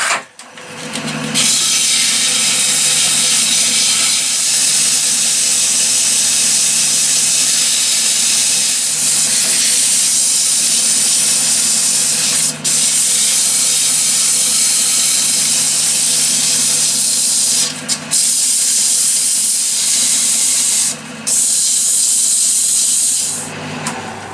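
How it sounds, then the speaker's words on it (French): Sanding the mouth of a turned cherry wood vase on a lathe, a loud continuous hissing abrasion that runs almost unbroken, with only a few brief drops, and no voices. "On va maintenant poncer un petit peu l'embouchure."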